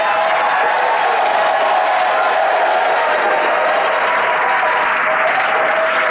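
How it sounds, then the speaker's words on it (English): Crowd cheering and applauding at SpaceX Mission Control in Hawthorne during a Falcon 9 landing, a dense, steady roar of clapping and cheers that fills the whole stretch without a break. "Crowds cheering here at SpaceX Mission Control Hawthorne"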